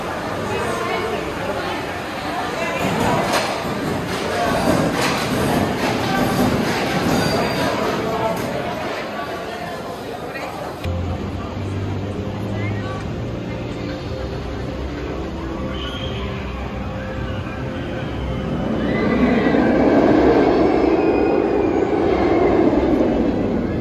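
A B&M roller coaster train on the Katun ride rumbles past with a loud, rushing roar that fades, then surges again toward the end, under crowd chatter at a theme park.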